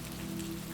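Gentle rain falls steadily in a foggy Scottish isles setting, a soft, even patter of drops with a faint low hum beneath, continuous and close throughout.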